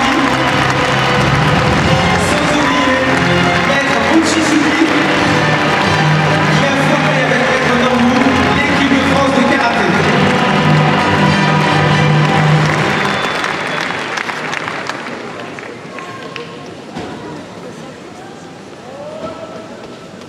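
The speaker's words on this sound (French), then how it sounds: "Merci d'applaudir très fort." A large arena crowd at a karate event in Bercy applauds and cheers loudly, with whoops and loud voices over dense clapping for about thirteen seconds before it tapers into fainter clapping and room noise.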